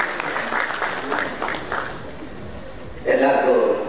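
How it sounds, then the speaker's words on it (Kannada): A crowd at an app launch event bursts into loud applause near the end, after a stretch of someone speaking over a hall murmur. "ಆಡಿಯನ್ಸ್ಗೋಸ್ಕರ ಜೋರಾದ ಚಪ್ಪಾಳೆ"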